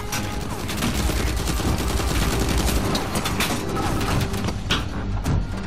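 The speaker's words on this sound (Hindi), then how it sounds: "टनाटन टनाटन गोलियां पड़ रही है यहाँ तो" Dense, continuous gunfire with rapid overlapping shots and bursts, loud and sustained throughout, like a heavy firefight in Uncharted 4: A Thief's End.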